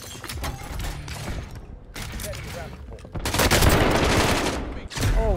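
Rapid gunfire bursts in Warzone on Fortune's Keep, several loud, dense volleys broken by short pauses, with a player's voice talking briefly in between.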